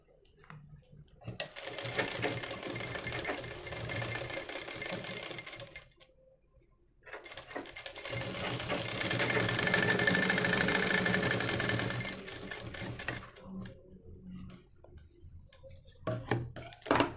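A sewing machine stitches a blouse in two long runs of rapid, steady mechanical chatter separated by a brief pause, fairly close, with a few short clicks at the end and no talk.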